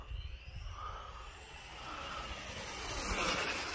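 A 3S-powered RC car with a 3500 kV brushless electric motor drives along, giving a steady whirring drone that builds slightly louder toward the end, with no talk.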